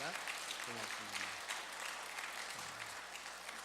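Church congregation applauding at a Sunday service, a steady wash of clapping from many hands at a distance, fairly faint, with a voice speaking briefly over it near the start and again toward the end.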